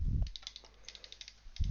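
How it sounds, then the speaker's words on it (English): Fast, light clicking from rapid spam-clicking during a game, a string of quick ticks with a couple of heavier thumps at the start and end, close and fairly quiet. "Spam click. Spam click."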